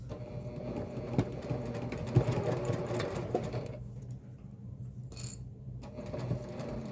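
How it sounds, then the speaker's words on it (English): A sewing machine top stitches through mesh onto a flipped-over fabric piece, running in a steady mechanical whir with a brief pause near the end. "we're going to stitch through the mesh and top stitch onto that flipped over piece"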